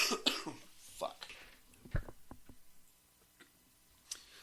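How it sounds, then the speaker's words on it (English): A few rough coughs and throat-clearing sounds, close and fairly quiet, followed by softer clicks and breathy noises. "Sorry, another coughing break."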